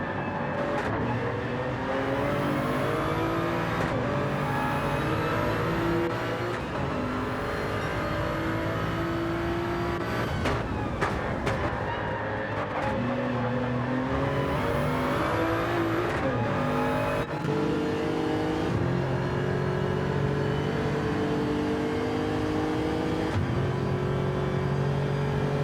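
Race car engines at Bathurst in Gran Turismo 7 during a Group 3 one-hour race: a continuous high-pitched drone rises and falls through gear changes and revving, with other cars passing close by, loud and steady throughout.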